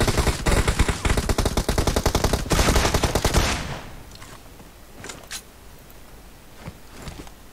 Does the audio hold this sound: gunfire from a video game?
yes